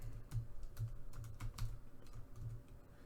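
Fingers tap on a computer keyboard, a soft steady patter of keystrokes at close range with no talk.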